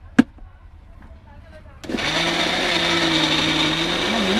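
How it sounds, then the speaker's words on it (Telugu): A mixer grinder blends mixed fruit juice from kiwi, orange, dragon fruit and banana. After a quiet start with a single knock, the motor kicks in and runs loud and steady with a high, constant whine to the end. "ఇక మిక్సర్ మాత్రం భలే పని చేస్తుంది, గిర్ర"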